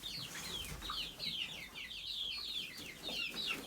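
Several chickens cluck and chatter continuously at moderate distance, with soft rapid calls over a background hum.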